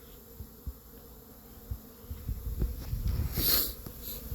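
Honeybees from half a dozen healthy colonies buzz faintly around the hives outdoors, a soft hum under scattered handling clicks and thumps, growing a little louder toward the end.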